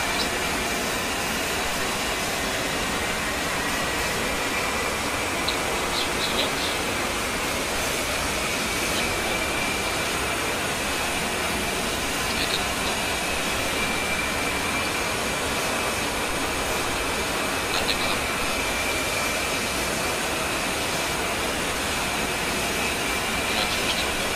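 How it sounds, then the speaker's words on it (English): Twin turbofan engines of an A-10C running in the DCS World flight simulator, a steady loud broadband roar with a faint high whine, continuous and unbroken for the whole stretch, with no voices. "With both engines now running and powering the left and right AC generators"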